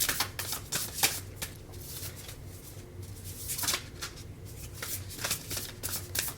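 Large tarot cards are shuffled by hand in quick, repeated riffling bursts of papery flutter, close and fairly loud, with short pauses between rounds.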